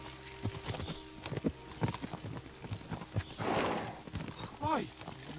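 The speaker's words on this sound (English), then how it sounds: "We should spur the horses on!" Horse hooves clip-clop in the Kingdom Come Deliverance 2 video game, a run of uneven close thuds mixed with a brief whinny and other game sounds.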